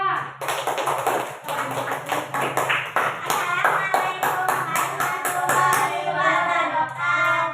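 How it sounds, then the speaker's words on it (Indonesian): Steady, rhythmic clapping from a school class fills the whole clip, with voices talking over it throughout. "berikan tepuk tangan pada kelompok 2"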